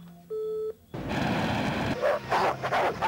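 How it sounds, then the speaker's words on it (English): A dog barks and yips in loud bursts over a noisy, busy scene, with a brief electronic beeping tone just before. "Look at the dog, Leon."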